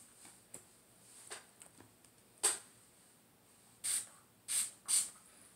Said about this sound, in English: I know I'm not showing you that piece that I'm spraying